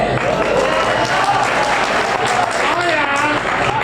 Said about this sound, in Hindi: यहाँ ताली बजती है